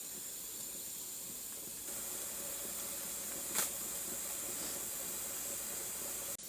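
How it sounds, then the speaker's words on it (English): Steam hisses steadily from the vent of a pressure canner on the stove, a bright continuous rush with the weight beginning to jiggle, a brief sharper spurt midway, with no talking. "can you hear the steam coming out of there?"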